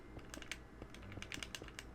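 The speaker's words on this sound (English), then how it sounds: "Clicking of the controller, so loud." Xbox 360 game controller buttons click in quick, irregular bursts during Minecraft play, faint and close, with no talk over them.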